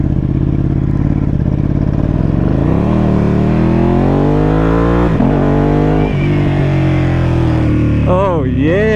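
A custom Ducati Panigale V2 engine roars loud and close on the road, climbing through revs in rising sweeps with a sharp throttle blip near the end. A voice talks briefly under the engine.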